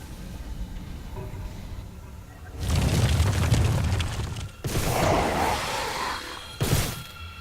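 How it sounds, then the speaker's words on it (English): Widow Mine explosion in the game StarCraft 2, heard as a few deep booming bursts with rumbling tails, the largest sustained over a couple of seconds and a sharper short blast near the end. "Looks like she didn't notice the Widow Mine hit there."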